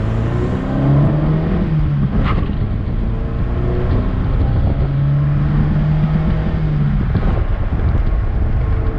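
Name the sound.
Chevrolet Chevette engine on a street drive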